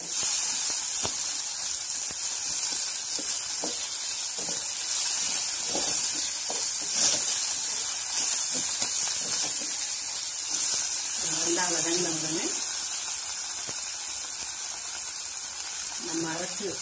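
Tomatoes sizzle steadily in a hot pan, a constant bright hiss with occasional pops and faint background voice.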